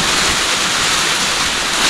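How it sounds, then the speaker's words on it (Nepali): Strong storm wind roars in a dense, unbroken broadband rush during a rainstorm in Kailali, loud and close with buffeting against the microphone and no voices. "एकदम हावा पनि चल्दैछ।"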